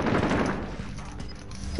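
Dense gunfire in a shooter video game, steady and fairly loud throughout with overlapping shots and thuds, no talk over it.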